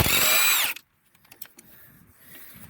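A power tool with a 12 mm socket loosens a bolt on a Toyota Camry strut. It whirs loudly for under a second, then stops, and a few light clicks and clinks follow.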